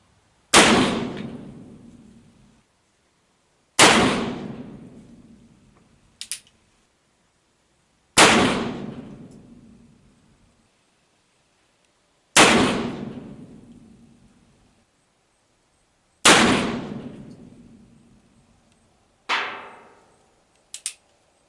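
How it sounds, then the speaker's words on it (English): Five loud, sharp shotgun blasts fired at a target ring out at a steady pace, each with a decaying echo tail, and short metallic clicks follow some of the shots. "we're going to shoot another 6"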